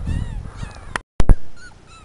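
A small puppy whimpers with thin, high whining cries, close by, broken by a brief gap and a couple of sharper thumps.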